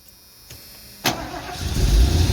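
A 1990 Ford campervan engine cranks over when the key is turned and catches, a few faint clicks first, then a sharp start rising into a loud, steady idle close by.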